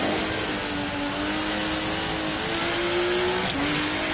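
Race car engine in the RennSport racing game, a loud sustained drone whose pitch climbs and settles steadily, with a brief shift near the end and no talk.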